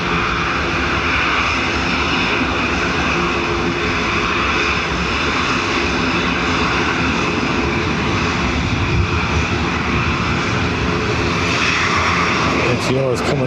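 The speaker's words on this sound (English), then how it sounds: "JetBlue off to Boston" A JetBlue airliner takes off from Dublin Airport bound for Boston, its engines roaring steadily and loud throughout, with a rising whine near the end and voices talking over it.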